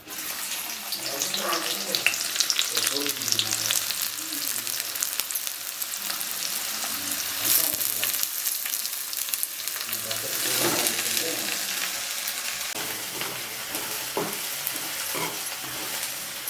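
Onions fry in oil for chicken biryani, a steady close sizzle with stirring, while water runs from a tap in the background and a voice talks briefly now and then.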